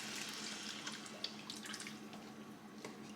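Beans are rinsed under a running kitchen tap, giving a steady close hiss of flowing water with small splashes and shifts as the beans are moved about, with no talking.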